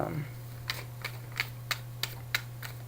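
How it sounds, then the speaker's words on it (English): A deck of tarot cards is cut and shuffled by hand, giving a series of about seven short, crisp riffling snaps at a fairly even pace over a low steady hum. "I'm actually going to just go ahead and cut and shuffle."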